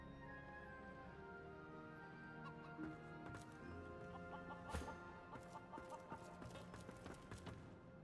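A hen clucks in the fantasy role-playing game Divinity: Original Sin 2, with short fowl calls scattered over a steady bed of game ambience and a few distinct knocks.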